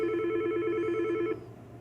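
A Yealink desk phone rings with a steady electronic trilling ringtone, close and clear, for about a second and a half before cutting off abruptly into quiet room tone.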